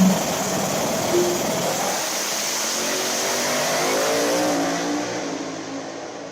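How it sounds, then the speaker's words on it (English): A drag race car on radial tires roars off a drag strip and accelerates hard, its engine note climbing as it pulls away and fades into the distance. "Now, that's Michael Nell in the far lane with the old Rogue 405 car on radials now."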